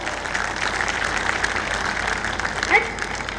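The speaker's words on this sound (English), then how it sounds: "you need to give them a loud round of applause for being there at the top" Audience applause at a school annual day, a steady wash of clapping at moderate volume, with a brief brighter sound near the end.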